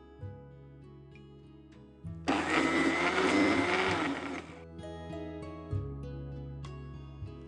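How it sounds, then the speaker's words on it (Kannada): An electric mixer grinder grinds almonds that had soaked in water for two hours, a loud whirring burst of about two seconds that starts and stops abruptly over a steady low hum. "ಓಕೆ, ನಾ ಇದನ್ನ ಮಿಕ್ಸಿಯಲ್ಲಿ ಗ್ರೈಂಡ್ ಮಾಡಿ"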